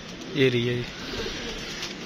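A pigeon coos softly on a rooftop, one brief low burbling coo near the start, while someone talks over it with steady outdoor background noise.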